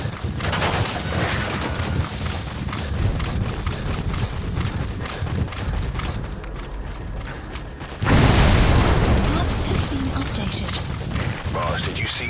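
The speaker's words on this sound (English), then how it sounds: "Boss, did you see that explosion?" Vehicle crash and explosion in the video game Metal Gear Solid V: The Phantom Pain, a dense rattling mechanical clatter broken by a sudden loud booming burst partway through, followed by lingering rumble, with speech in the game mix.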